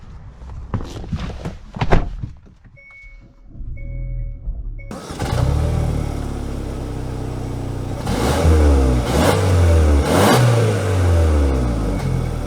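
A 2024 Hyundai Santa Cruz XRT engine is quiet at first with a few thumps, then settles into a steady mid-pitched hum as the vehicle drives, swelling into louder revving surges near the end.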